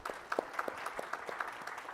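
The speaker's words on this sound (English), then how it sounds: "I think that deserves a round of applause" An audience at a public-service awards discussion in India claps, a moderate round of distinct, fairly regular hand claps that stays close and clear with no talk over it.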